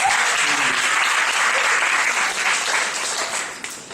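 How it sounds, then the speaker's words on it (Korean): A church youth-group congregation claps during a middle and high school worship service, a dense, steady round of applause that stays loud throughout and tapers slightly at the close. "한 번 더 박수!"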